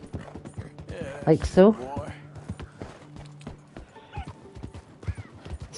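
A horse in Red Dead Redemption 2 gives a whinny among rhythmic hoof clip-clops, with someone talking over the game sounds.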